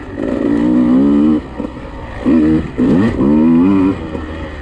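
A 150cc dirt motorcycle held in third gear on a wooded track buzzes loudly up close, revving in bursts with brief dips off the throttle and rising pitch as it pulls out of tight corners.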